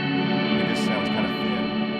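Guitar played through a Headrush multi-effects unit with delays, heard without the stacked 11 reverb, giving a sustained, dense ambient wash of chordal tones at steady level with no talking.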